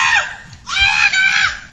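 A neighborhood goat screams, two loud, harsh, human-like shrieks close to the microphone, the second longer and wavering.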